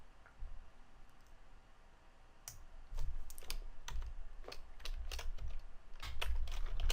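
Keys clack on a computer keyboard in quick irregular bursts, fairly close, with short pauses between runs of taps and no talk.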